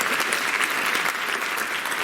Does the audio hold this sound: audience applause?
yes